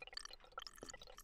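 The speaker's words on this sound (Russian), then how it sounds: "Вода какая-то бежит как будто." Faint trickling water in a video game, with a soft, dripping, splashy texture, brief and quiet.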